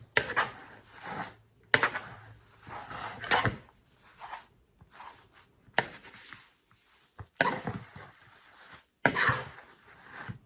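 Compost materials are mixed together by hand for a worm bin, making intermittent rustling and scraping bursts separated by short quiet gaps, close and moderately loud.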